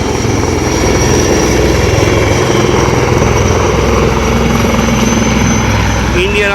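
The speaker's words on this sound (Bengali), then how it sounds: "ইন্ডিয়ান আর্মির এই যে হেলিকপ্টার ল্যান্ড করছে। দেখো, এই মুহূর্তে ল্যান্ড করে নিল এখানে।" An Indian Army helicopter comes in to land during a military exercise, its loud, steady rotor roar and engine whine filling the whole stretch close by without letup.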